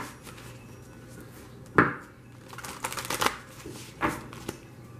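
Tarot cards being shuffled close by, with a couple of sharp riffles and bridging flutters between quieter handling and sliding of the deck, no speech.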